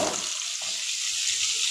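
Freshly cut papaya dropping into hot oil with dried chilli tempering for a Bengali papaya ghonto with mung dal, a bright steady sizzle and hiss filling the whole stretch, close and moderately loud.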